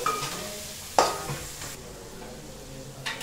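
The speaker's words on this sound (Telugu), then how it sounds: "టమాటాలు యాడ్ చేసుకోవాలి కలుపుకోవాలి" Tomatoes being stirred into a chicken curry in a pan, a sharp scrape near one second and a softer one just after three seconds, over a steady low sizzle.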